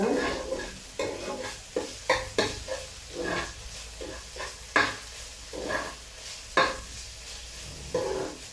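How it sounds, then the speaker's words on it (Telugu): Onions fry with ginger garlic paste in a pan, a steady sizzle broken by repeated spoon-stirring scrapes at an uneven rhythm, close and moderately loud with no voices. "ఉల్లిపాయ ఇట్లా వేయించుకోవాలి. అల్లం వెల్లుల్లి పేస్ట్ కూడా వేసేసాను ఇందులో."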